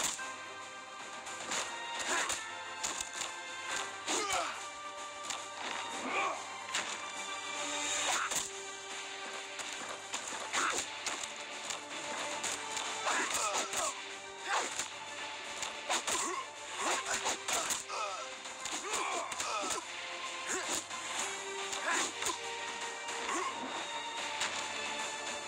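Fast fighting effects from Shadow Fight 3 played on a Samsung Galaxy S8: dense bursts of whooshing swings and sharp smacking hits come in quick clusters over a low background hum.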